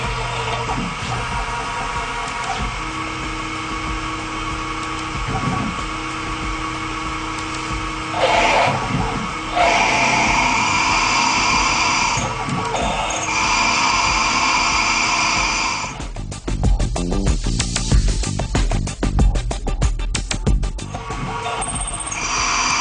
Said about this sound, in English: Drill cycle is G73 with a feed rate of 2 inches per minute and a peck size